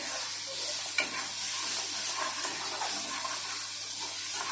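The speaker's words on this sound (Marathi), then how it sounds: "फास्ट गॅस करून मी चांगलं भाजून घेतलंय बघा वाटण" A steady, dense sizzle of ground spice paste roasting in a hot pan over a high flame for Malvani fish curry, with faint scraping from stirring and one small knock near the start.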